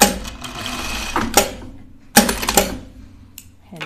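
Bursts of a sewing machine stitching a knit sweater, loud and close, in two main runs separated by brief pauses with clacking mechanism noises.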